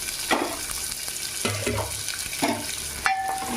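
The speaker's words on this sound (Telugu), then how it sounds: "ఆయిల్ ఇగో ఉల్లిపాయ ముక్కలు సన్నగా కట్ చేసుకున్నాను. ఇవి కొంచెం కలర్ వచ్చిన దాకా వేపుకుందాం." Thinly sliced onions fry in hot oil in a pan for a stuffed-eggplant biryani, giving a continuous close sizzle broken by several scraping stirs of a spoon against the pan, with no talk.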